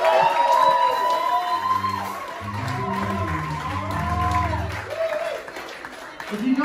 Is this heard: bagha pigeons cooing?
no